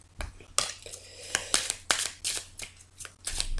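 Lenormand cards are shuffled by hand close up, a series of sharp riffling bursts and soft slaps in an irregular rhythm, with quiet pauses between.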